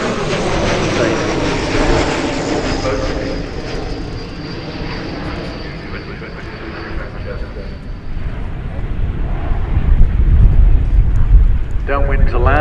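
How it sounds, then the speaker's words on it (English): An ATR turboprop airliner flying a display at the Farnborough Airshow, running on a sustainable aviation fuel blend, gives a steady, loud engine drone with propeller roar that swells toward the end, under wind noise. "This aircraft is flying today with a blend of sustainable aviation fuel."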